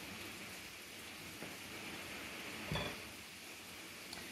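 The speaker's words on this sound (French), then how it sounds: "mais il pleut, il pleut, il pleut." Steady rain falls outside a kitchen, a soft continuous hiss with one brief louder clatter near the end and no talking.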